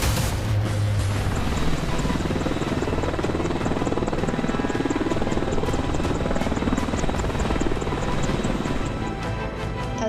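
Apache AH-64E attack helicopter for the Indian Army, its rotor thudding steadily and loudly throughout with a constant engine drone, close by and with no talk.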